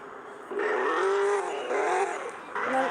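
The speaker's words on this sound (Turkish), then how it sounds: "Arabanın normal sesi böyle." A Tofaş car engine in a video game hums steadily and rises in pitch as it revs a few times, with a synthetic, game-like quality; no talking.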